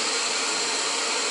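A Jetboil gas stove burner roars steadily at close range, a constant loud rushing hiss with no break, heard alone.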